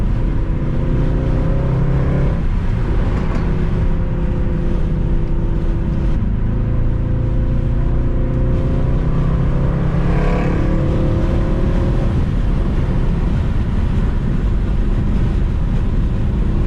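Mercedes C63 AMG with its 6.2-liter V8 idling after startup, a deep steady rumble with harmonic drone that swells briefly in a couple of revs, loud and close with no talk.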